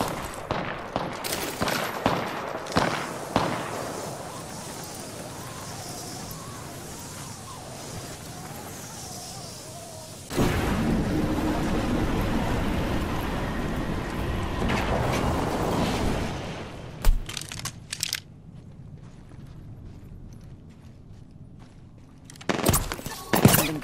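Video game gunfire while being shot at, heard as bursts and volleys of shots and a long, dense stretch of sustained fire, with quieter gaps in between.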